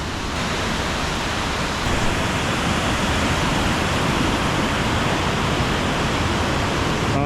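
A waterfall at Whiteoak Canyon roars in a steady, dense rush of falling water, heard from close by at the top of the falls with no pauses or voices.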